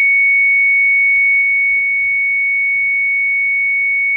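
A loud, steady electronic test tone sent from a weather service transmitter holds one pitch for about four seconds, then cuts off abruptly.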